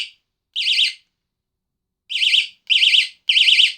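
Electronic bicycle bell horn rated at 90 decibels gives four loud, shrill warbling bursts, close up: one short blast, a pause, then three quick blasts in a row.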